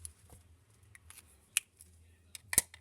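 Scissors snip through patterned craft paper close by, a few crisp cuts spread out with one sharp double snip near the end, quiet between.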